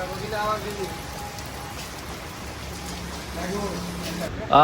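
Steady rain falls outdoors, pattering on surfaces throughout, while people talk nearby over it.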